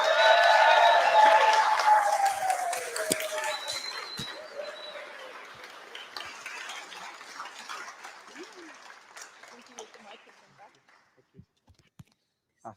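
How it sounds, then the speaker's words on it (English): An audience at a talk on quantum experience claps loudly at first, the applause thinning to scattered individual claps that fade away over several seconds. "Let's give a thunderous applause for Dr."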